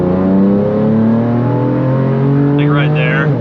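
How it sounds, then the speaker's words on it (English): A BMW S55 twin-turbo six-cylinder engine revs up toward about 5000 rpm, a loud close sustained drone rising in pitch with a faint higher whistle near the end. "It's just like the motor and the turbos and the way it sounds."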